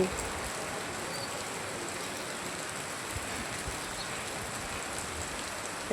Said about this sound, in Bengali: সকাল সকাল বৃষ্টি